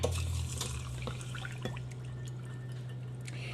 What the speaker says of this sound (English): we're going to put 1 cup water